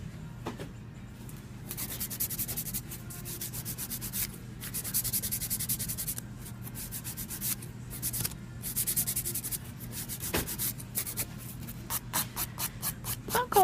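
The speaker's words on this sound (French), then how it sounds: "Donc on lime." A nail file rubs back and forth across fingernails during a manicure, giving soft, steady scratchy strokes in quick bursts with short pauses and no talking.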